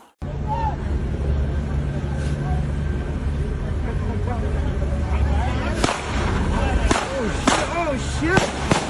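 Several sharp gunshots ring out outdoors in the second half of a police bodycam encounter near water, standing out over steady background noise and shouting voices.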